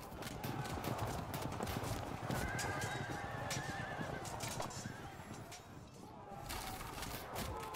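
Light horse archer cavalry in the Field of Glory II battle game gallop with dense clip-clopping hooves and scattered neighs, a busy, continuous battlefield din lasting throughout.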